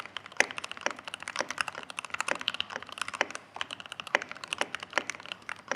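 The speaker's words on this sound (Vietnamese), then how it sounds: "Đây mình gõ sơ sơ cho anh em nghe về tiếng ha." Quick, steady typing on a Keychron K8 Pro mechanical keyboard, close and crisp with sharp, clacky keystrokes in an irregular rhythm and no voices.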